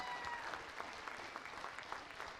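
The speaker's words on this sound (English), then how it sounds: "So if we can give them a round of applause." A crowd applauding steadily, a dense wash of clapping hands with no pauses, moderately distant.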